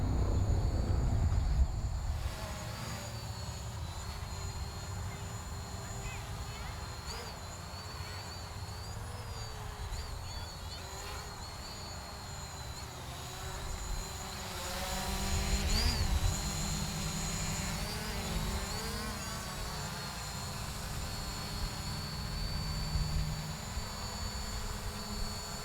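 An MJXRC Bugs 4W drone flies nearby with a steady, high-pitched buzzing whine of its propellers, rising and falling in pitch as it maneuvers, continuous and fairly loud throughout.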